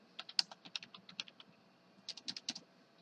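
A facility ID is typed on a computer keyboard in an office, with light, close key clicks in an uneven run, a brief pause, then a quicker cluster of taps, all against near silence.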